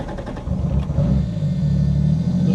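Toyota Mk3 Supra engine rumbling close by, a low uneven idle that sounds rough and struggling, with a brief throttle blip near the start before it settles into a steady, loud drone.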